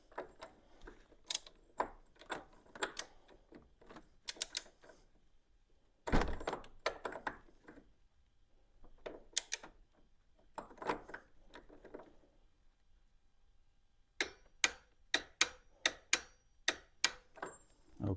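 A torque wrench tightens the steering stem nut on a Honda GL1500 Goldwing motorcycle, sharp close ratchet clicks in quick bursts separated by quiet gaps, with one heavier thunk partway through.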